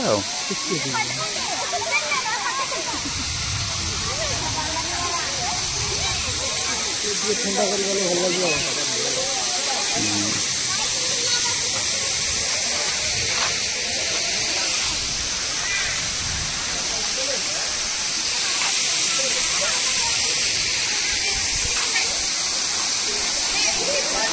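Hati Ganda waterfall near Koraput roars as a loud, continuous hiss of falling water throughout, with people talking over it.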